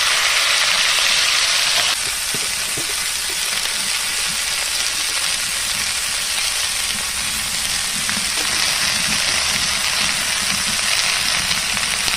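Young green jackfruit frying in oil in a pan for a vegetarian dish, giving a loud, steady sizzle that crackles hardest in the first two seconds, then settles into a continuous hiss with no voices.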